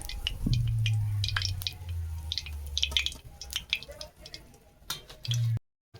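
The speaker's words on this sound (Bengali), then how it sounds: "এই যে এই ডান্ডি ধরে তুলে নিলাম তেলটা ঝরে যাক" Oil drips and trickles off a freshly fried brinjal fritter lifted from the pan by its stem, producing irregular close ticks and patters over a low background hum before cutting to silence.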